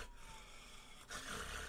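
A voice imitates loud, rasping snoring, one long drawn breath that swells louder near the end, heard alone without other talk.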